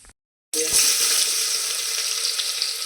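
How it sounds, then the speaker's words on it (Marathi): Cumin seeds spluttering in hot oil with asafoetida and mustard seeds, the tempering for a cabbage and chana dal bhaji, heard as a loud, steady, close sizzling hiss that starts abruptly after a brief silence. "जिरं वगैरे तडतडलं"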